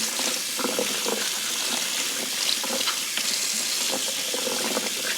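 Tap water runs steadily into a sink while collard greens are washed, a constant hissing splash close by with faint rustles and small splashy changes as the leaves are handled.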